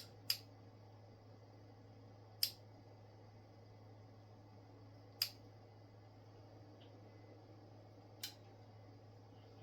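Latching click inside a Yaesu FT-101ZD Mk3 ham radio transceiver: five sharp, isolated clicks spaced a few seconds apart over a steady low hum, fairly quiet and close.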